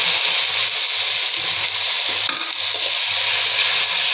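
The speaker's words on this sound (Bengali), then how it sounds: "দিয়ে দিব কিছুটা গরম পানি।" Hot water poured into a pan of frying turmeric, chilli, salt and coriander powder with fried onion, giving a steady loud hiss and sizzle with faint pulsing low hum underneath.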